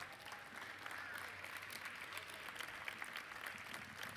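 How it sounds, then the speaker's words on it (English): Audience applause at an award show, a steady wash of clapping from many hands, fairly distant and faint, continuing evenly without voices on top. "Let's give them one final round of applause,"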